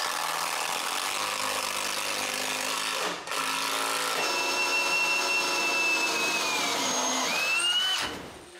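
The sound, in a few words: power screwdriver screwing threshold through aluminium into floor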